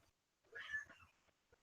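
A house cat gives a single short, faint meow indoors, followed by quiet background sounds.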